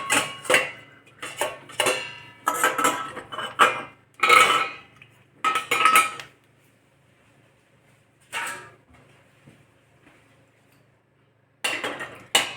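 Clinks and clatters of dishes being placed into a dishwasher rack, in several short bursts separated by quiet pauses, close by.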